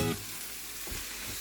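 A tadka sizzles in ghee for paneer bhurji, a short, even, close frying hiss heard on its own without talk.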